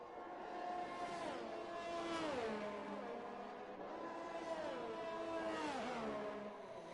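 Race car engines from a Ferrari and a Williams in a sim racing game whine steadily at high revs, pitch climbing through the gears with distinct downshift drops, two cars running close together throughout.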